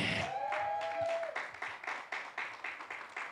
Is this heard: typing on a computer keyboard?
no